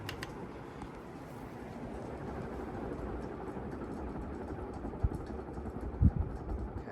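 A constant low mechanical drone from a noisy household electric fan hums throughout, with a couple of brief thumps toward the end.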